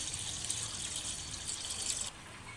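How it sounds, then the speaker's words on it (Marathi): Water poured from a small pot into a cooking vessel, a soft continuous splashing trickle for about two seconds that stops abruptly, faint and close in a quiet kitchen. "इथे एक तांब्या पाणी भांड्यामध्ये टाकून घ्यायचं आहे"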